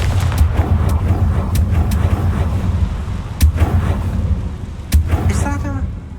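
A Confringo fire spell in Hogwarts Legacy bursts with sharp blasts at about 3.4 and 4.9 seconds, cutting through a steady low rumble and background game sound, with a brief chime near the end.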